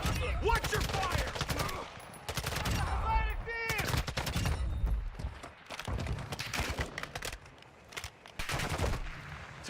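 Gunfire in Call of Duty DMZ: repeated bursts of automatic weapons fire and single shots crack near and far across the clip, with shouting voices between and under the shots.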